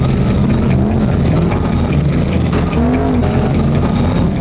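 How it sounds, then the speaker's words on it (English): Stock car racing with loud, continuous engine roar from cars circuiting the track, with rising revs and a brief tire squeal standing out against the steady motor noise. "Their battlefield, stock car racing."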